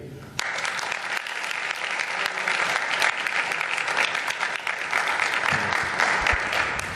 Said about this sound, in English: we do respect the clapping and the excitement